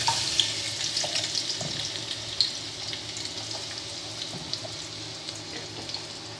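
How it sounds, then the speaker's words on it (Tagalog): Garlic and onion sauté in hot oil in a pan for chicken bistek, giving a steady, close sizzle with occasional small crackles and pops and no talk. "Gigisa na muna natin."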